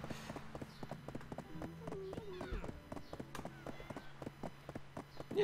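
A horse mount gallops in the video game Black Desert Online with rapid, rhythmic hoofbeats. Someone talks over it and a snort is heard once.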